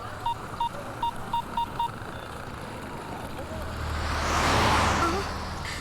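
A telephone number being dialed: six quick keypad tones in an even rhythm, followed by a swelling wash of background noise.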